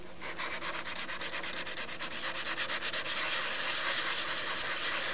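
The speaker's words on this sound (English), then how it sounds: "This is sanding real well." Steady rhythmic sanding of a model Seafire airplane's tail, close and fairly quiet, with quick back-and-forth rubbing strokes over a surface and no voices.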